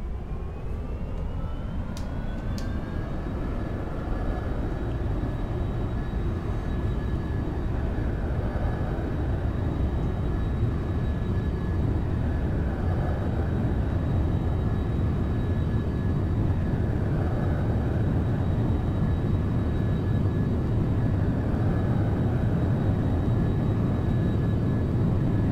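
Simulated F-4 Phantom II jet engines in the X-Plane 11 flight game, spooling up with a rising whine and then settling into a steady, loud, continuous roar with a high tonal whistle.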